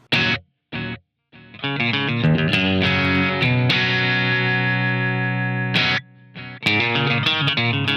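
An electric guitar played through a BIAS FX delay effect rings out in distorted notes and sustained chords, each followed by fading repeats that lose some treble, with short silent gaps between phrases.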